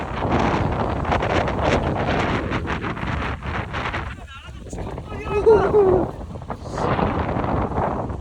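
Strong gusts on the coast at Sokcho buffet the microphone with a loud, continuous roar that dips briefly midway, while people talk over it.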